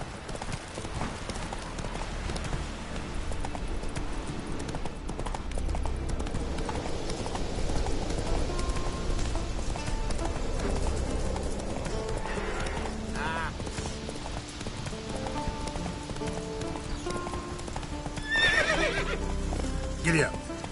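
A horse galloping in The Witcher 3 game, on Skellige, with continuous rhythmic hoofbeats under game ambience, a whinny and snorts late in the passage, and a voice speaking at points.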